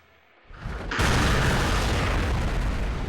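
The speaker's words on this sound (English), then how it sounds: "One little arrow, one big boom." A cartoon-style explosive arrow goes off in a single big boom: a short rising whoosh, then a loud broadband blast that holds as a dense, roaring rumble to the end.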